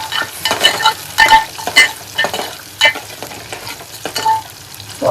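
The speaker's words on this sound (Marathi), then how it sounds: "फ्राय करून घेऊया." Food frying in a pan, loud and close, with a crackling sizzle and regular scraping stirring strokes about every half second.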